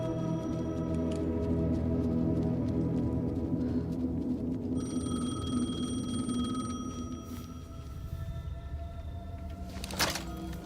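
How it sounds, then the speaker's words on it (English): Payphone ringing in the video game Alan Wake 2, a faint, repeating ring under a droning, ominous ambient bed, with a brief louder clatter near the end. "The payphone was ringing."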